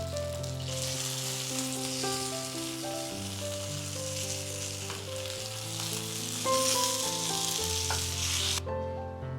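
Sea bream frying in banana leaf, a steady, close sizzle and crackle of hot oil that swells briefly as the parcel is turned over, with music playing underneath.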